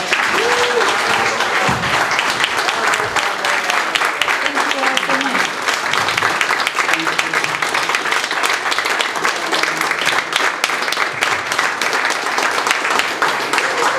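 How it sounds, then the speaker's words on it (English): An audience at a question-and-answer event breaks into applause, a continuous, fairly loud wash of many hands clapping that holds steady throughout. "can we have a round of applause for that?"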